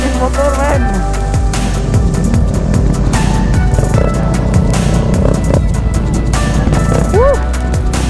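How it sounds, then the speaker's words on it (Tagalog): Group of motorcycles riding a loop around Bohol in 2023, loud engine drone with several rising and falling revs and whines passing close, dense and continuous, with some voices in the mix. "apakadaming motor, men"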